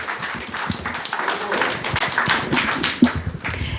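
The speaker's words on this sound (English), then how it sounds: "let's give Prabhu a round of applause for such an amazing class" Audience applause after a class at a Hare Krishna gathering, uneven claps and taps close by, with a voice speaking over the clapping.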